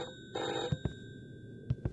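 Telephone ringing inside the indie horror game Martha Martha Martha: a steady electronic ring followed by repeated pairs of sharp bell-like tones, close and clear with no talking.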